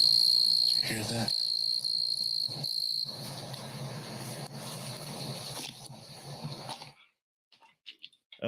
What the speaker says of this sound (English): there's a lot of crickets because it is summer in Tennessee